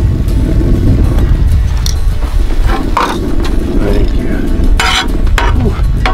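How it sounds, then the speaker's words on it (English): An egg fries alongside steak on a Blackstone griddle outdoors in the mountains, a loud continuous sizzle broken by a few sharp scrapes of a spatula against the flat-top. "Let's cook that egg up."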